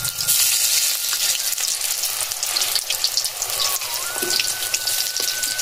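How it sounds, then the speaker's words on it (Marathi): Pieces of food dropped into hot oil fry with a loud, close, continuous sizzle and crackle, a faint whine running through part of it and no talk. "आता हे बघा असे तेलात सोडायचे"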